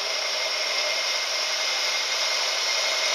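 A milling machine set up as a lathe cuts steadily, giving a constant close, bright hissing whir with no breaks or talk.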